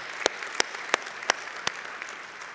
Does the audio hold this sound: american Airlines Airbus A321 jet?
no